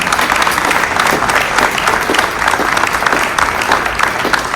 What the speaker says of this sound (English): We have a round of applause for all of the candidates.